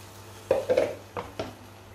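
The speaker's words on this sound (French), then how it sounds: "je mélange jusqu'à ce que ce soit bien incorporé aux aubergines" A spoon knocks and scrapes in a pan as milk is stirred into cooked aubergines for Turkish hunkar begendi: four short, close clinks in the first half, then quiet, with no talking.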